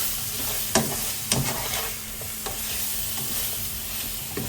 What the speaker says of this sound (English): I'm going to use half of the spoon of the chili flake. And mix them together.